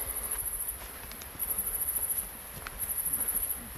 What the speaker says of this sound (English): Crickets and katydids.